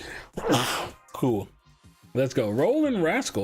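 A single loud, sudden sneeze bursts out near the microphone during a gaming podcast stream, followed at once by someone talking.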